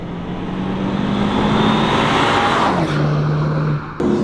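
A 2020 Mini Clubman JCW engine revs hard under acceleration, close and loud, then its pitch drops sharply as it shifts into second and builds again, with a brief dip near the end.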